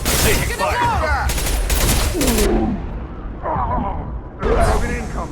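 Gunfire in the video game Mass Effect 2: bursts of rapid shots come and go beside game effects, with a voice calling out between them.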